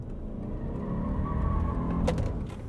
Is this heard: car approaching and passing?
yes